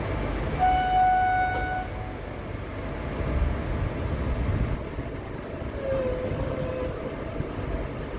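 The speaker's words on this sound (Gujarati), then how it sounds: "આવી રહ્યો છે ડિપાર્ચર હોર્ન વ્યુઅર્સ," A Bhuj to Rajkot daily special train at Gandhidham station gives its departure horn, two sustained blasts, one early and one a few seconds later, over steady loud rumble of the train and track.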